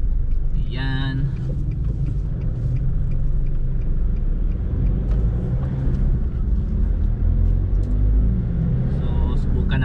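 Nissan Navara pickup eight days old and still in its break-in period, cruising on a highway diversion road, giving a steady low cabin rumble and road noise throughout with someone talking over it.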